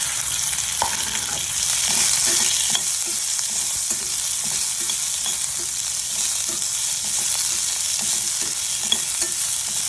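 Onions, cashews and green chillies sizzle steadily in hot oil in a pan, with a spatula stirring and scraping at a regular rhythm throughout, close and fairly loud, with no talking.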